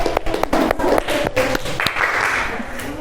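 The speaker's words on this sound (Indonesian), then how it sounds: "Beri tepuk tangan untuk Mbak Valerina Nasita." A classroom audience gives a short burst of clapping for a student's performance, steady and moderately close, fading slightly toward the end.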